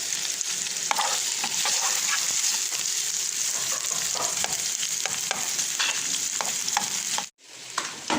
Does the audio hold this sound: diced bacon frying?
yes